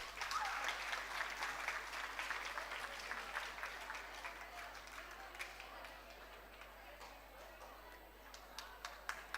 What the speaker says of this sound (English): Arav Sudan, may we have a huge round of applause for all of them.